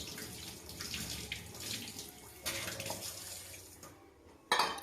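Water from boiling goat legs is poured into a mutton paya curry in a pot, a steady splashing pour in a kitchen that surges again at the end.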